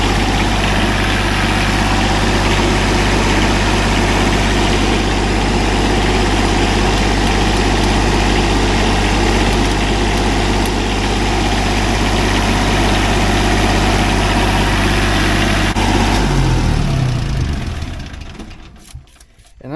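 A small wheel loader's engine idles steadily and loud up close, a constant low throbbing rumble with rattly vibration, cutting off as the engine shuts down near the end.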